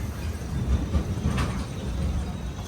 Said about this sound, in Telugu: సుల్లూరుపేట నుంచి మన ట్రైన్ స్టార్ట్ అయిపోయింది.